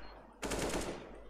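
Rapid automatic gunfire burst from Counter-Strike: Global Offensive, a loud dense rattle lasting about half a second, alone and then cutting off.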